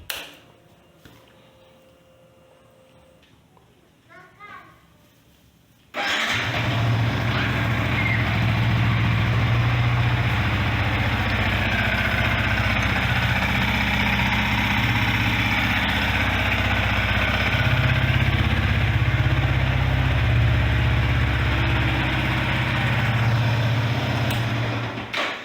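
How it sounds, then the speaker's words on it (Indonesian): Yamaha Vixion R motorcycle engine starts after a few quiet seconds of faint handling noise, then settles into a steady, close idle that runs evenly for about twenty seconds. "Pertama kita hidupkan dulu mesinnya."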